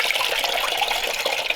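Water pouring steadily from a drained 1939 Mercury flathead engine into a bucket, a continuous close, bright splashing gush with no pauses.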